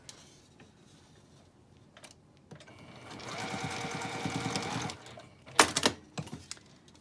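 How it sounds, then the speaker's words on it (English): A sewing machine stitches back and forth over elastic on a fabric scrub cap made from a fat quarter, a steady burst of needle chatter lasting a couple of seconds, followed by sharp clicks and handling noises. "I'm just gonna sew over that a couple times"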